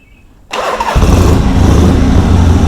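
A Harley-Davidson Ironhead Sportster motorcycle engine cranks briefly and fires up, then settles into a loud, steady, rumbling idle close by.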